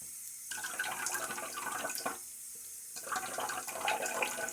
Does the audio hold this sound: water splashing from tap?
yes